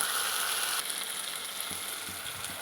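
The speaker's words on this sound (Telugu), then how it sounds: "టమాటా కూడా యాడ్ చేశాను ఇవి కొంచెం స్మాష్ అయ్యే వరకు వేయించుకోవాలి" Tomato and ginger-garlic paste frying in a pan, a continuous close sizzle with a few soft stirring knocks near the end.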